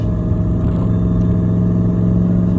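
An old Mercedes camper van's engine drones steadily while driving, a loud, close, continuous low hum with a constant tone and faint clatter, no voices over it.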